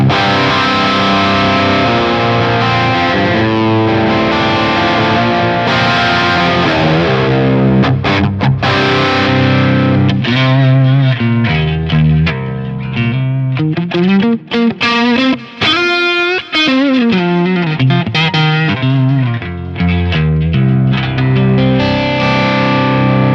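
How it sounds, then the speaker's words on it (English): Distorted electric guitar through a Line 6 Helix with delay and reverb, sustained chords and repeating echoed notes ringing out loudly with no talking. "the usual suspect, a delay block and a reverb"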